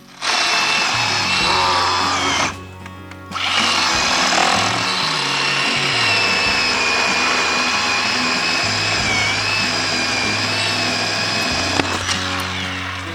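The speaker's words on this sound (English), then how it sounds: "That little Harbor Freight chainsaw has come in handy more than once." A small Harbor Freight chainsaw engine runs loudly and steadily outdoors, cutting out briefly near the start, then revving and droning on with a high mechanical whine.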